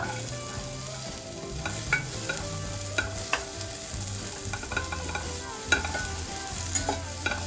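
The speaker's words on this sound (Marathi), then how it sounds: "आता कढई तापली, आता वाटा भाजून घेऊया।" Steady sizzling of onion roasting in a hot pan, with occasional scraping stirs and clicks, close by, no talking.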